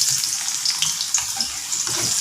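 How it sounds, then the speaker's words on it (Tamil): Garlic hitting a hot frying pan for stir-fried moringa leaves gives a steady, close hissing sizzle that holds throughout with small crackles. "இப்போ நான் பூண்டு போடுறேன்."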